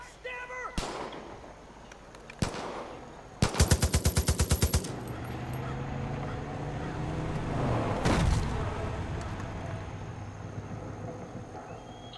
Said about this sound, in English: Everybody's trying to shoot me.